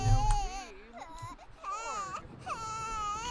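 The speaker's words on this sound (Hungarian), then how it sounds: "megint sír valamelyik" A baby cries in The Sims 4 game, repeated high wailing sobs in several bursts, loud and close, with no talk over them.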